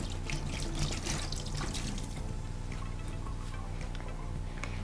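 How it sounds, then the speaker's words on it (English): A kitchen tap runs as a knife is rinsed under it, with a steady splashing flow against a sink and light ticks; close and fairly quiet, with no talking. "I can rinse my knife a little"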